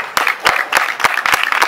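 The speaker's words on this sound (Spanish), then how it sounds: "Para ella es el fuerte aplauso." Hands clapping at a neighbourhood assembly in Murcia, heard up close as loud, distinct, fairly regular claps in a short burst.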